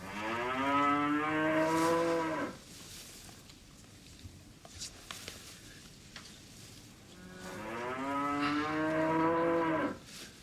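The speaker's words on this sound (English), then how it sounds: "You've been midwife to a cow before then, Peter." A cow in labour moos in two long, loud, drawn-out groans, with a quiet stretch of faint shuffling between them and no talking.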